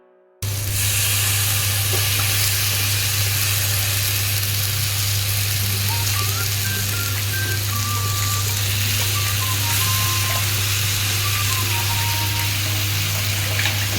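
Tuna fish hits a hot kadai and sets off a loud, steady sizzle that hisses on without a break, over a constant low hum from the stove area.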